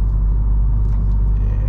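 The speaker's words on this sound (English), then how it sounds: "You get a little bit of exhaust noise, which I like." Low, steady exhaust rumble from a 2022 VW Golf GTI with DSG gearbox while accelerating on the road, heard as a dense continuous drone inside the cabin with no talk.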